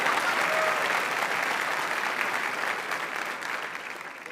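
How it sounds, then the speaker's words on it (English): Audience applause at a graduate school of management hooding ceremony, steady dense clapping from a large crowd that holds evenly throughout and fades slightly at the end. "We can go ahead and applaud Anahita"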